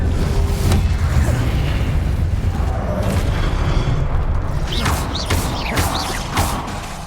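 Booming fiery spell blasts from Hogwarts Legacy, the Incendio fire spell among them, erupt loudly in quick succession over continuous combat noise, with a few sharp bursts near the end.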